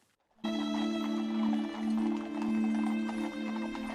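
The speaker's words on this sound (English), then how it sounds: "It's the silence, just the clip-clop of the horses." Horses' hooves clip-clopping slowly along a street in a funeral procession, a steady measured rhythm rising after a brief silent start, with a sustained tone and a quiet crowd behind.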